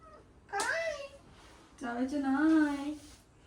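A voice imitates a cat with two drawn-out meows, close and clear, separated by a short pause.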